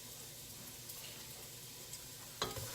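Carrots and onions cook in a hot pan with a steady, low sizzle throughout, followed by a brief louder clatter near the end.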